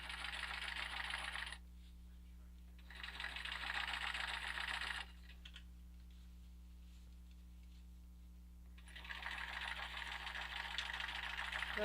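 A sewing machine stitches elastic onto a cloth diaper made from curtain fabric, with a steady motor whir in three bursts separated by quiet pauses, close and fairly loud with no talking.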